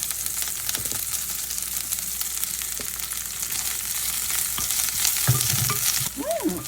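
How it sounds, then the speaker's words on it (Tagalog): Garlic and onion sizzle and hiss steadily in a hot pan, with occasional scraping stirs and a few light clinks of a utensil toward the end; no talking. "Ilagay na natin yung ating garlic and ang ating onion."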